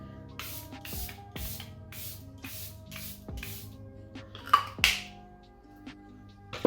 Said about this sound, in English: And to spray my face, I'm gonna take my Airbrush Flawless setting spray.